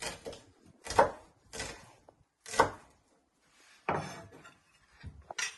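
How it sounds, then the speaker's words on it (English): A knife chops shallots into little pieces on a board, a series of distinct, close, crisp strikes separated by short pauses. "So you keep slicing them thinly, turn them around and chop them into little pieces."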